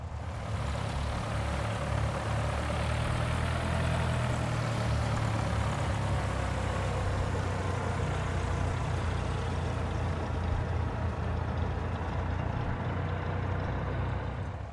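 A propeller airplane engine runs steadily through a run-up in the X-Plane 10 flight simulator, a continuous loud, close drone with a deep low rumble that holds even for the whole stretch, with no talking.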